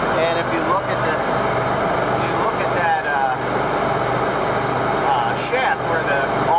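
A Krone 1290 Big Pack baler runs with its plunger moving back and forth and a massive 1,300-pound flywheel turning, producing a loud, steady mechanical drone and hum that stays constant throughout.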